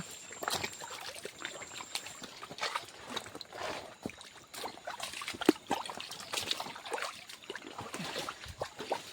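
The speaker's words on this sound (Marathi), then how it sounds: "आता इथे जरा वाहत पाणी आहे" Shallow stream flowing through village scrubland at night, a continuous soft trickling and gurgling with irregular splashy bursts, fairly quiet and close, with no talk.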